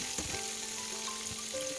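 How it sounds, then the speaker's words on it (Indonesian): Seasoned chicken pieces coated in salt and turmeric powder fry in hot oil over a big flame, giving a continuous dense sizzle with a few louder crackles and no voices. "Digoreng sampai garing, apinya api besar dan minyaknya panas ya."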